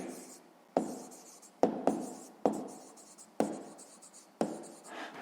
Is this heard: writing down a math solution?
yes